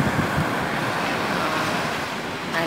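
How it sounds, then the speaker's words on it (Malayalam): Cool early-morning wind blowing at Puthuvype beach, a steady broad rush with surf-like wash close to the microphone, continuous and fairly loud for the whole stretch. "നല്ല തണുത്ത കാറ്റ്,"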